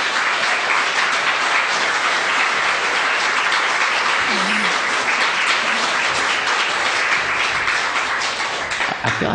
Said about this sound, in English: please give a big round of applause for singer-songwriter Mr.